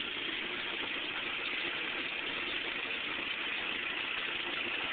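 A 1968 International Scout 800A engine idles steadily, a smooth, even rumble that stays close and constant throughout with no talking.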